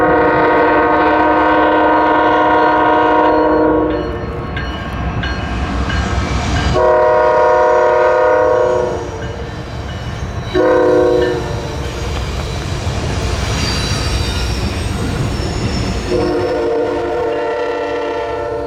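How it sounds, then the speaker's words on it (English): A CSX manifest freight train heads south on the River Line at Haverstraw, loud and close, with long, strong horn blasts sounding again and again over the rumble and clatter of passing cars. "Manifest train Q409 was able to make its way south on its way to Waycross,"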